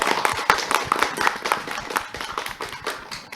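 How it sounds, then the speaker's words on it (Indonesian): Audience applause at an Al-Falah inclusive school talent show in Toli-Toli, heard as close, dense, steady clapping with sharp individual claps throughout and no talk. "kasih tepuk tangan dulu dong"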